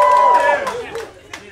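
A crowd at a stand-up comedy show erupts in cheering and clapping, loud and close at first, then thinning out into scattered claps and a few shouts as it dies down.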